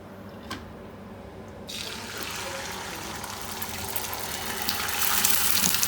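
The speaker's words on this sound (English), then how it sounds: "let's fill it up." A kitchen water tap starts running partway through, a soft hiss that turns into a steady gushing stream and grows gradually louder toward the end.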